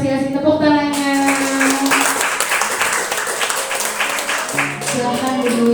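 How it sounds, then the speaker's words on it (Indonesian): An audience claps at a school event. The clapping is dense and sustained, with voices talking and calling out over it. "Mohon apresiasi tepuk tangannya."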